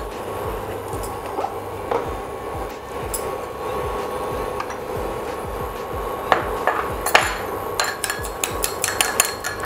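Whisking an egg in a bowl for coating homemade fish fingers: quick, steady clicking beats of a utensil against the bowl, close and continuous, with a few sharper knocks toward the end and no voices.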